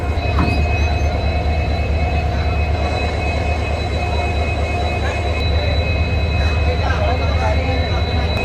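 A railway locomotive reverses to couple onto a passenger train, giving a loud steady diesel rumble with faint wheel squeal and clanks, while people talk nearby.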